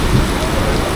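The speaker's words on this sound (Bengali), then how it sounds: "কি মারাত্মক লেভেলের কিন্তু বৃষ্টি চলে এসেছে" Heavy rain pours steadily at Dankuni railway station in West Bengal, a dense continuous hiss filling the whole moment at close range with no break.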